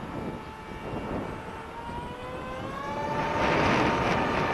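A model airplane engine runs at full throttle, a steady high whine with rising harmonics that climbs and grows louder toward the end as airspeed builds, close and continuous with no talk.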